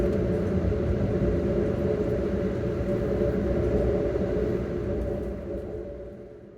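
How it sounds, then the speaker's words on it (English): An Amtrak train hauled by a Siemens electric engine runs through the old Baltimore tunnels, a steady, loud rumbling roar with reverberant noise that holds for several seconds and eases slightly toward the end. "The sounds of our journey intensified as the multiple competing noises bounced off the walls in the confined spaces within the old Baltimore tunnels."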